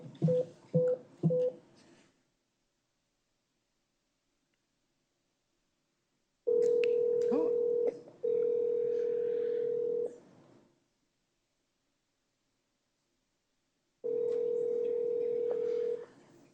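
A telephone emits a few short dialing or ring bursts, then long steady dial-tone stretches after the call is hung up, loud and close with silences between, no talk.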